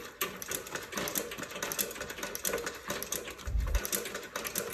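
A Singer 29-4 boot patcher sewing machine stitches in a steady, fast mechanical patter, close and moderately loud, with a brief low thump near the end.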